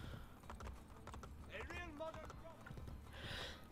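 Hooves clip-clop in a rapid galloping rhythm as a horse is ridden in Assassin's Creed: Brotherhood on PS4, with a voice talking over it and game sounds mixed in.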